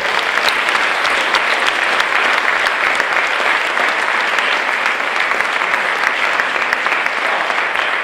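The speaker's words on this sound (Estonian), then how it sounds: "Me võtame ta otse loomulikult aplausiga vastu" Loud, sustained applause from a premiere gala audience welcoming someone onstage, steady clapping without a break for several seconds.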